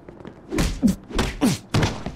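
Punches landing in a Mafia 2 video game fistfight: four heavy, dull thuds spaced roughly half a second apart, close and loud, with no talk over them.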